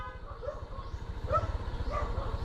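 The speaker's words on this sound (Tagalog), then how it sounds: "kasi aso naman laging sumasagot" Dog behind a house door barking: several quick, fairly close yips and barks in an irregular series, with faint background noise.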